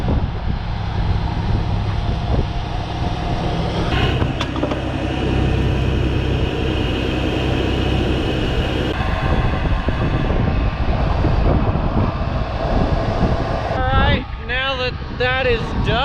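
Planter fan motor running on a farm tractor setup with the fan tube end caps removed, a loud continuous droning whine with shifting tones, ending in a brief series of chirping, sweeping sounds.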